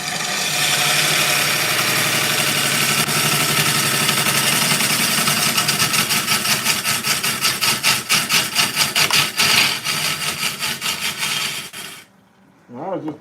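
An oak burl spins on a wood lathe while a gouge cuts it, giving a steady loud scraping hum for most of the stretch, then a series of choppier rhythmic cuts before it stops abruptly.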